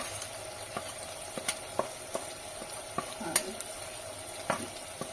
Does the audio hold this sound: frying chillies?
yes